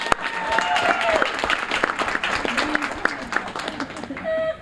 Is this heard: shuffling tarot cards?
no